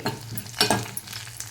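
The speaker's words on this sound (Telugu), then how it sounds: "రసంకి పోపు అండి చక్కగా చూడండి వేగిపోయింది" Oil crackles and sizzles steadily as tempering spices fry for rasam, with a few sharp pops and a brief scrape of stirring, close up and fairly quiet.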